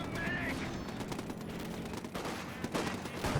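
Machine gun fire in Company of Heroes 2 rattles in faint, rapid bursts beneath battlefield noise and a commentator's voice, fairly distant.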